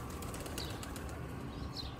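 Wings flap in a soft, steady flutter from a pigeon at a loft, fairly close under a constant background hiss, with no one speaking.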